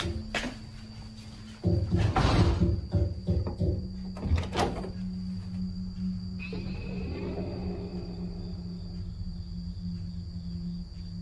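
A bathroom door being broken into, heard as a sharp burst of heavy banging and rattling impacts followed by a low lingering hum and faint creaks.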